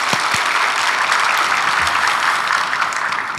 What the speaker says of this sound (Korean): 주차 안내 봉사해 주신 분들 위해 또 감사하는 박수 하겠습니다.